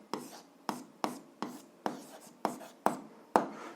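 A pen or chalk writing out an algebra solution to a system of two linear equations: eight sharp, evenly spaced strokes, each with a short scratchy tail, close and alone.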